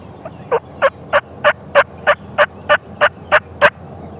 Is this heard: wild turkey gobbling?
yes